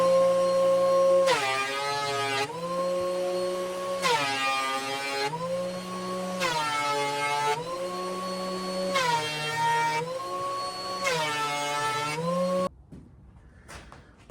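A thickness planer feeds black walnut boards through in repeated passes, each a loud rising whine with a harsh cutting roar that lasts about a second and a half between steadier motor hum, six passes in all before the machine shuts off abruptly.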